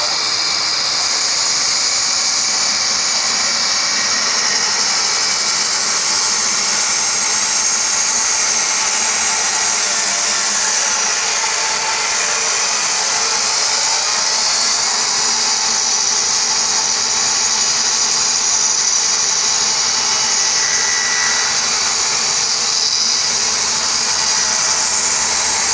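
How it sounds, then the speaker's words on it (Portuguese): A band saw runs steadily, cutting 3 cm thick wooden boards, with a loud, continuous high-pitched whine and hiss from the blade. No one talks over it. "Ele tá serrando as tábuas com 3 centímetros."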